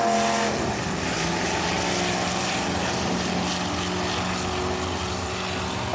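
A Plymouth Roadrunner muscle car, 1970 with an optional 383 engine, roars down a drag strip at NHRA Englishtown in a loud, steady engine drone that holds for the whole stretch.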